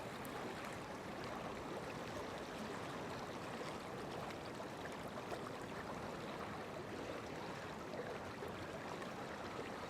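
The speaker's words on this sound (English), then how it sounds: "This is definitely like white water" Fast white water rushes along the River Avon in a steady, even roar, heard faintly and continuously from the bank with no voices.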